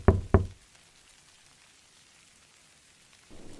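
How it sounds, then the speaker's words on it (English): Two quiet knocks on a kitchen door during a storm, sharp and close together at the start, followed by near silence and a faint rush of rain at the end. "A quiet knock."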